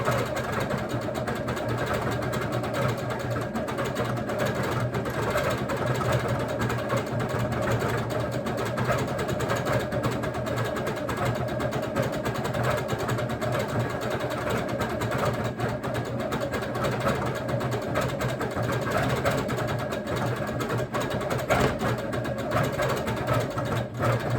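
A longarm quilting machine stitches a pebble pattern into ice-dyed fabric, giving off a steady, continuous mechanical hum and rapid needle whir that holds even and close throughout, with no talk over it.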